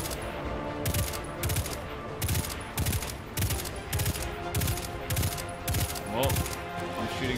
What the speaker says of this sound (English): if we shoot the thralls, they explode